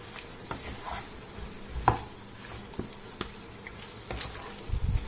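Kerala-style chicken roast (chicken perattu) being stirred and mixed in a pan near the end of cooking, with soft scraping and light sizzling, scattered utensil taps, and a few clearer knocks toward the close.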